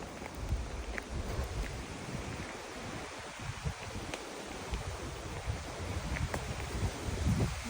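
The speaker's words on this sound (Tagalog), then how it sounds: "lakas ng hangin" Steady wind roars and rumbles against the microphone with a constant noisy rush and occasional gusty thumps, no voices present.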